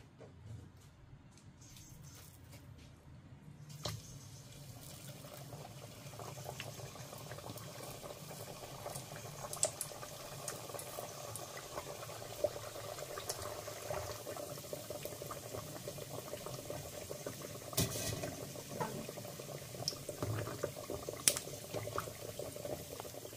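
Sweet tikiyan fry in oil over low-medium heat, producing a continuous soft bubbling sizzle with scattered small pops and crackles that grows slightly busier over time, close and fairly quiet.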